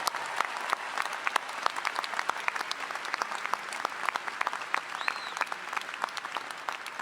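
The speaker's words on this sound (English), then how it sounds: "Let's applaud all the moms here today and greet them." A large audience at a university commencement applauds steadily, a dense, even patter of many hands clapping throughout with no pause.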